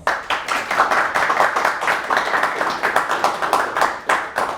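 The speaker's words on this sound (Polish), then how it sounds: "Proszę o brawa dla Szymona" Audience clapping for a graduate guest named Szymon at an interview event, a steady dense patter of many hands sustained throughout, fairly close and loud, with no talk over it.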